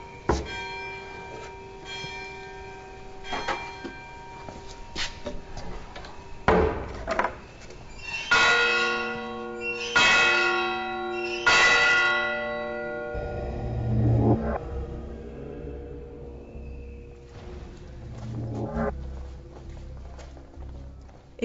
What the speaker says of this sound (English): Here, time is tied to the rituals of the order with the clock bell.